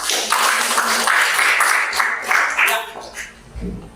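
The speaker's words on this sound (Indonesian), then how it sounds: "Berikan tepuk tangan buat penghormat" Scattered applause from a class of students in an Indonesian classroom, a few seconds of fairly close clapping that thins out and fades near the end.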